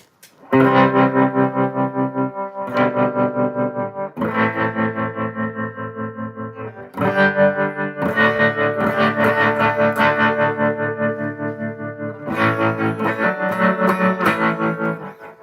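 A loud electric guitar plays sustained distorted chords through effects pedals and an amp with onboard reverb and tremolo, with a shimmering, pulsing tone and reverb between phrases.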